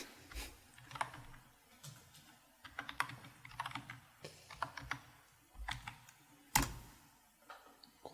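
Someone typing on a computer keyboard, irregular bursts of close, crisp key clicks with short pauses and one sharper clack, heard alone.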